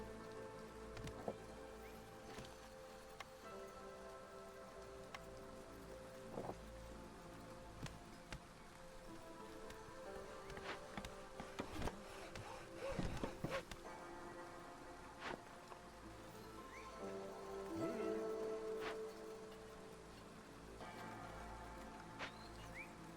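Steady storm rain patters across a fantasy settlement in the city-building game Against the Storm, a continuous mid-level wash of droplets with scattered game clicks and chimes on top, swelling slightly toward the end.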